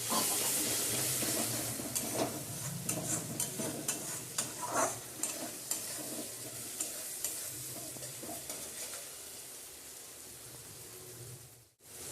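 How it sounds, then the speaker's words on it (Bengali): Meat stirred and fried in a kadai for a home-cooked curry, a steady close sizzle and hiss with repeated scraping stir strokes throughout, ending abruptly near the close. "এবারে মাংসটা দিয়ে দেওয়া হচ্ছে বন্ধুরা কড়াইতে তারপরে ভালো করে কষিয়ে নেওয়া হবে"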